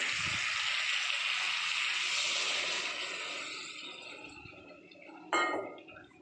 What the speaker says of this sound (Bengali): এরপর আমি এই যে একটা পাত্রে গরম জল করে রেখেছি, গরম জলটা দিয়ে দেবো।